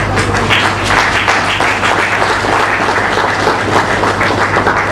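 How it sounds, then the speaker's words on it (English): An audience at a conference lecture applauds steadily, a dense wash of clapping from many hands that holds at full strength throughout. "I welcome you to the high table with a round of applause."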